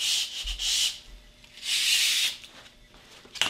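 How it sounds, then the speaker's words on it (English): Sandpaper rubs the fuzz off the bottom of a thin maple strip cut for guitar binding on a band saw, in two or three close, hissing bursts of strokes separated by pauses. "So I just need to sand off the fuzzies off the bottom."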